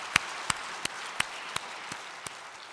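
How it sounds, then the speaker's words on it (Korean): Rhythmic clapping by a church congregation to encourage the deaconesses at a Korean Full Gospel church service. Evenly spaced sharp claps fall about every third of a second, in unison, over a quiet room background. "우리 권사를 위해서 다시 한번 박수로 격려하고"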